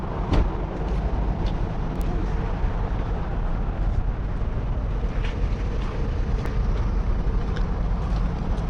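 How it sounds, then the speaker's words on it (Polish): A low, steady car engine idle rumbles continuously close by, with wind buffeting the microphone and a few faint ticks over the drone. "Pan wyłączy w końcu ten silnik."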